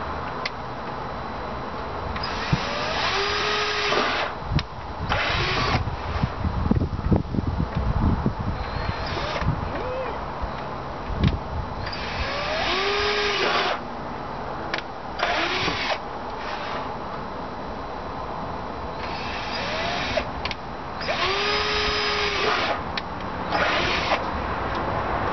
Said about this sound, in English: drill about a dozen holes in the middle of the bottom of the bucket to let air into the soil and the roots